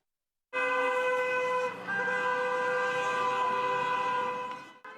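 Car horns honking together at a rally on a central city square, a dense continuous blare of several overlapping sustained horn tones that holds steady for several seconds before trailing off, loud and near.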